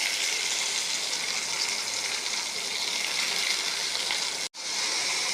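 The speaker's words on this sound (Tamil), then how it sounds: "வெங்காயம் போட்டு கல் உப்பு போட்டு வதக்கிடலாம்." Onions sautéing with rock salt in a pan for an egg curry, a dense, loud hiss of frying that holds steady, briefly cut by a sudden dropout, with no voice over it.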